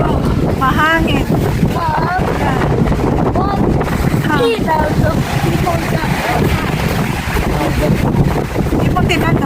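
Strong wind buffets the microphone in a steady roar, while people talk underneath it the whole time.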